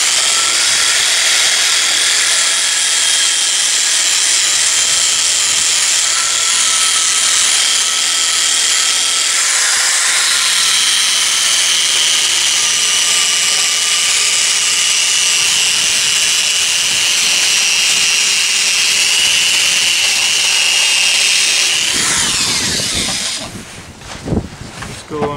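A loud, steady power drill whirs continuously against a metal oil bath air filter, a high grinding whine with harsh hiss, cutting off near the end into scraping and clatter.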